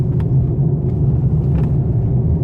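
A Mercedes-Benz E200 d diesel car with a 9G-Tronic automatic gearbox accelerates, heard as a steady low cabin rumble of engine and road noise, fairly loud and even, with no talking.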